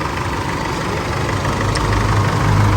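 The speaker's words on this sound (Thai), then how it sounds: "ติดแล้วนะคันนี้ เสียงเงียบกิ๊บเลย ฮะเครื่องเงียบกิบเลยครับ" A car engine idles after repair work with a steady, low, even rumble, close by and continuous, with no talking.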